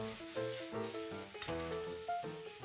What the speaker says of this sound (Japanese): みりん、醤油、混ぜます。